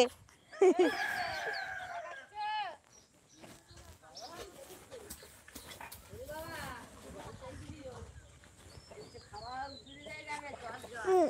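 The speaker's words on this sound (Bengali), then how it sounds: "আমরা এই মুরগিগুলো নিয়ে যাবো ব্যাগে করে করে" Chickens and a rooster cluck and crow in a backyard, with several calls rising over people chatting nearby; the birds are loudest near the start and again toward the end, mixed with steady talk throughout.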